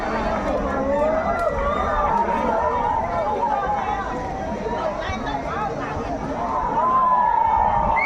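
A crowd at the Mukah boat regatta cheers and chatters in a steady, distant roar that swells near the end, mixed with babble and a few whistles.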